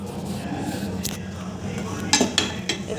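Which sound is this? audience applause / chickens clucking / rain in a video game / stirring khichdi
stirring khichdi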